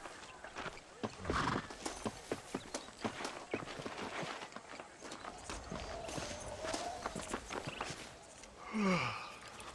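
Horse hooves clip-clop steadily in Red Dead Redemption Remastered, a walking rhythm of repeated close hoofbeats with a horse whinnying near the end and faint voices in the background.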